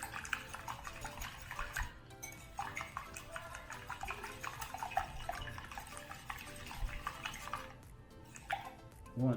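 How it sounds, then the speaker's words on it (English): Eggs and milk are whisked in a bowl, giving a steady, close, rapid clinking and scraping that carries on without pause. "give the eggs a little whisk"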